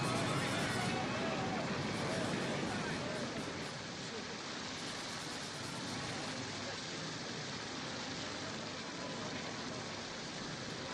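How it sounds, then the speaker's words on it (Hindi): Ocean waves churn in a storm, a loud, continuous roar of crashing water and spray-like hiss that fills the whole stretch evenly without pause. "हमें लहरें घेर रही हैं, हम डूब जाएंगे"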